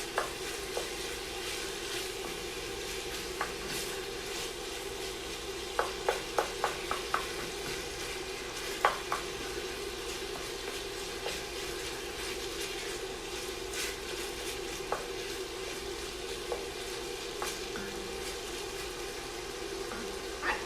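Ground beef fries in a pan with a quiet, even sizzle. Scattered sharp clicks and scrapes of a utensil against the pan run through it, with a short cluster of taps near the middle and no speech.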